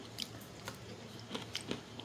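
Someone bites into and chews crispy air-fried French fries, close up, with a few sharp crunches over a quiet background hum.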